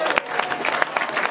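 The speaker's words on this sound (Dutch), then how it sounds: "Alvast een applaus" An audience at a regional sports and business awards gala applauds, with a brief burst of fairly close clapping and individual sharp claps standing out.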